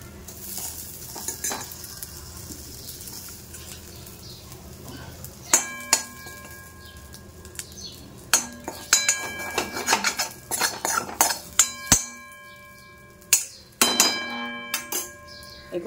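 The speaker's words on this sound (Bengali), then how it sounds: "এখান থেকে আমি সব কটা চিংড়ি তুলে নিলাম বাটিতে" Cooked shrimp being lifted out of a frying pan into a bowl with a metal utensil, giving repeated clinks and scrapes of metal on cookware over a soft background sizzle.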